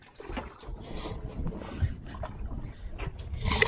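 Wind outside a sailboat on the Baja coast, a low rushing gusty noise with some water gurgling against the hull, close to the microphone and fairly steady.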